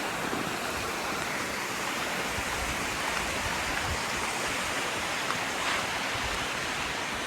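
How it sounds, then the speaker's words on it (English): Heavy stream of water rushing along a wet Washington trail on the Pacific Crest Trail, a loud constant broadband roar with no pauses throughout. "So much water on this trail."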